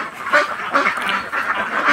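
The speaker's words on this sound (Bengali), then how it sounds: "তো আমি বাইরের থেকে আপনাদের হাঁসটা দেখাই।" Ducks on a duck farm quack in a dense overlapping chorus of several birds, fairly close and continuous over two seconds.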